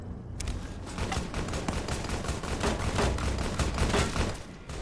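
Sustained, dense gunfire from Fallout: New Vegas, with rapid overlapping shots rattling continuously at close range for nearly five seconds, loud and without talk.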